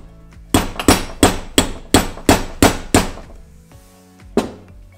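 Hammer blows strike a tool while a spark plug is drilled out of a car engine, about eight loud, sharp metallic impacts in a quick irregular series, then a pause and one final strike.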